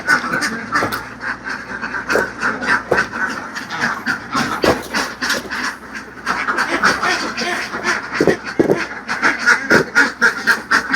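A flock of ducks on a large duck farm in Laos quack continuously and loudly, many overlapping calls close by, with no clear talk.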